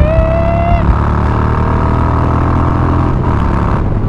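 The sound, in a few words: Harley-Davidson Twin Cam Softail motorcycle engine pulling through revs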